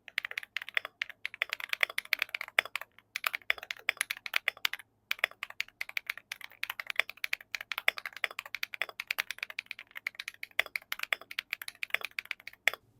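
Fast typing on a Rainy 75 mechanical keyboard comes through as dense, crisp clacks in quick irregular bursts with a few brief pauses, fairly quiet and close-miked with no voices.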